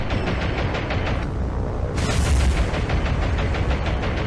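Anti-aircraft fire from warships in the naval game War on the Sea, a loud, rapid, continuous barrage of gun bursts and booms, with a sharper close burst partway through.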